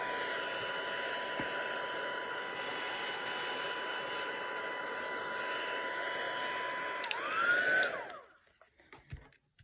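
A craft heat dryer drying ink on a card blows a steady loud whooshing drone, its pitch shifting as it winds down and switches off near the end.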